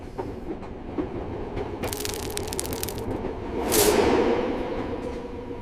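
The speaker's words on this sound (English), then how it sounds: "The train finally stopped." A train rolls in and slows to a stop, with rapid clattering wheel clicks followed by a hiss of air, over a steady low rumble.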